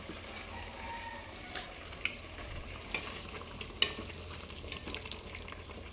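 Food frying in a pan gives off a soft, steady sizzle at low volume, broken by a few sharp clicks and taps of stirring, with no talking.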